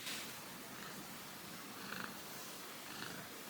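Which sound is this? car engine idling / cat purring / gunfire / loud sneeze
cat purring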